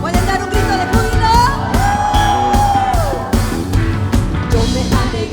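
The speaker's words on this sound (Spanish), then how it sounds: "¿Pueden dar un grito de júbilo?" A church congregation raises a loud, sustained shout of joy, with whoops and yells swelling over pounding worship music and drums, one voice rising high and long above the crowd.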